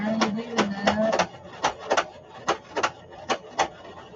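A sewing machine stitches a junk journal craft in short, uneven bursts, a quick run of close mechanical clatters followed by spaced single thumps, with a voice speaking briefly at the start.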